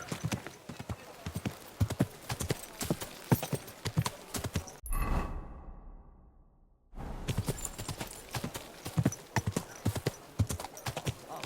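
Horse hooves clip-clop steadily at a slow walk in the video game Kingdom Come: Deliverance II, close and clear, pausing briefly midway before the rhythmic clatter resumes.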